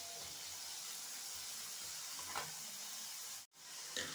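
Onions sizzle steadily in a shallow layer of oil with salt added, a close, continuous hiss with a few soft stirring scrapes and a brief dropout near the end.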